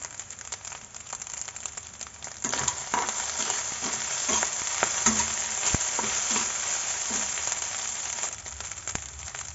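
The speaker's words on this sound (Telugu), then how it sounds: "ఇవన్నీ హై ఫ్లేమ్ పైన మనం బాగా కలుపుకోవాలి" Egg fried rice made from leftover rice is tossed and stirred on high flame, producing a steady hiss of frying dotted with quick clicks and scrapes from the spatula, with no speech.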